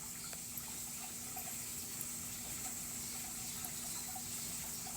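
A small garden waterfall beside a grotto at the front of a house gives off a steady, faint, continuous rush of falling water with a low constant hum underneath, with no other sounds over it.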